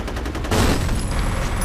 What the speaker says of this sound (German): Ey, da ist die Granate explodiert.